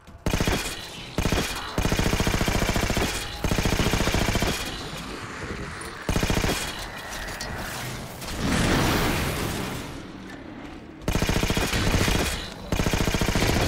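Sustained automatic gunfire from a weapon in the Halo 4 campaign, long rapid bursts separated by short gaps, loud and close, with occasional whooshes and booms.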